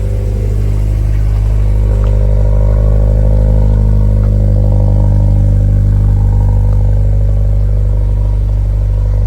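A Subaru BRZ with a Rocket Bunny V2 kit and 70,000 km on it turns over and idles with a deep rumble, revving up a few times, loud and close, with no voices.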